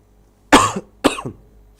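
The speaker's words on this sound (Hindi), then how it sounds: "थोड़ी खांसी वगैरह है?" Two sharp, close coughs from a person in a classroom lecture setting, half a second apart, in otherwise quiet surroundings.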